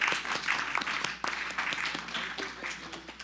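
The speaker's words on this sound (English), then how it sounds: "Let's give them a round of applause." Applause from people gathered at a city council meeting, several seconds of moderately quiet, steady clapping that gradually tapers off.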